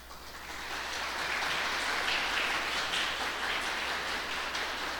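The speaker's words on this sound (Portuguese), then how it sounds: "Gente, quando aplaude eu morro de vergonha." Continuous audience applause at a lecture, a dense steady crackle that stays at an even level for several seconds, with no voices over it.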